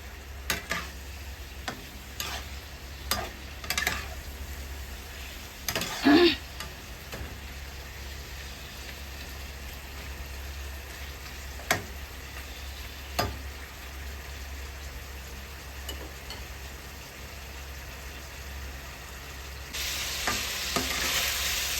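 Pork frying in a pan sizzles quietly and steadily, with intermittent sharp ticks and scraping stirs of a utensil against the pan, and a louder burst of sizzle near the end.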